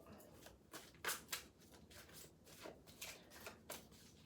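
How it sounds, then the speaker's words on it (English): A deck of cards is shuffled by hand, quiet rhythmic riffling bursts repeating several times close up. "give them a little shuffle"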